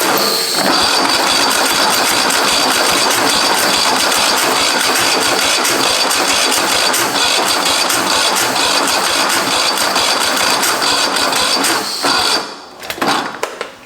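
A Husqvarna 54-inch zero-turn lawn mower engine cranks and sputters while trying to start, a loud, steady churning run lasting about twelve seconds before cutting off abruptly, followed by a brief quieter rattle.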